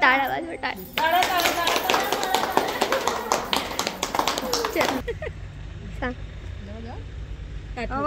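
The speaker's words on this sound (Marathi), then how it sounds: "टाळ्या वाजवा." An audience claps along at a devotional bhajan gathering at an ashram, steady rhythmic hand claps mixed with voices for about five seconds, then the clapping drops away and quieter talk continues over low background noise.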